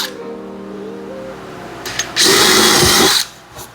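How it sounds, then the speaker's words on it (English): A power drill bores a hole through the centre of an assembled wooden clock, one loud burst of whirring and cutting lasting about a second after a quieter stretch of background hum. "And I drill a hole."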